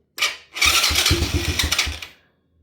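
A small quad bike engine running out of fuel sputters and chugs unevenly in short bursts for a couple of seconds, then cuts out and falls silent.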